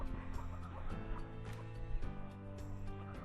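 Chickens and young chicks clucking outdoors in a yard, a close, overlapping run of soft clucks and calls throughout.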